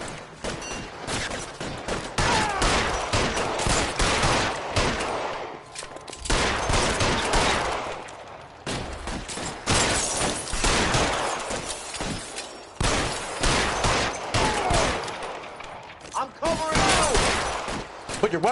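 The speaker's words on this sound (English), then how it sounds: "Fire a warning round." Gunfire in the 1940s crime game L.A. Noire: loud bursts of shots, including warning rounds, arrive in repeated volleys separated by short lulls, with voices talking between them.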